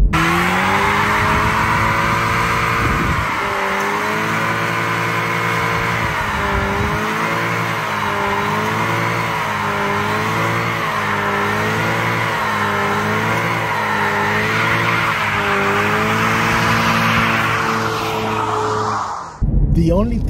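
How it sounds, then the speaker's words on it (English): A 2023 Chevrolet Camaro makes a long, loud burnout and donuts nearby, its engine wavering through rising and falling revs under continuous tire squeal. A voice is heard partway through, and the clip ends abruptly. "You can still do burnouts. You can still do donuts."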